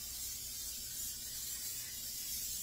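Steady, even hiss of cooking spray on a pan running throughout, close and continuous with no talk.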